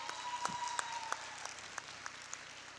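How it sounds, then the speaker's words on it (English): A seated audience at an interactive talk session claps for itself, faint and steady, with a few sharper individual claps poking through a soft wash of applause. "Give yourselves a round of applause."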